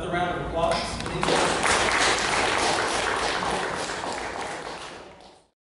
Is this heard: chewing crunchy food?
no